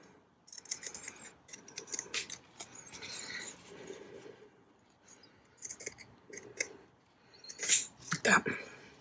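Scissors cut off a top section in a few separate snips and crisp clicks, close and fairly quiet, with brief pauses between the cuts.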